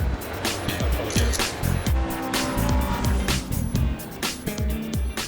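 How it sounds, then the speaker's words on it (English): Historic racing cars at the Silverstone circuit in Northamptonshire during a classic event, several loud engine passes and revving bursts in quick succession, close by and without talk. "Nick's in Northamptonshire at the Silverstone race circuit, the home of British motorsport."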